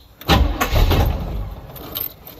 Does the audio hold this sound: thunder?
no